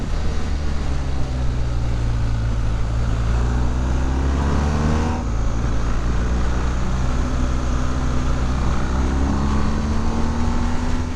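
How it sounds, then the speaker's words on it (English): A stock-exhaust BMW R1250GS motorcycle engine growls steadily while riding on a scenic road, with rising and falling engine tones and throttle blips on down changes, loud and close with constant wind rush. "it's got a lovely growl to it on the blip for the down change"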